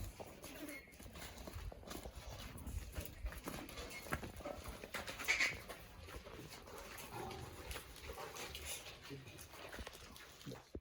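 Hooves of a goat being walked at a goat farm, irregular soft clip-clop steps near and fairly faint, mixed with background voices and people talking throughout.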